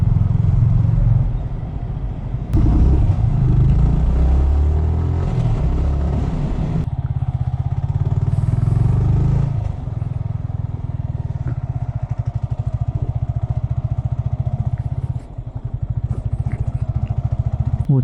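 A motorbike rides along after a full tank of petrol, its engine rumbling loudly and steadily close by with shifts in throttle, road noise and occasional clatter, and no voices.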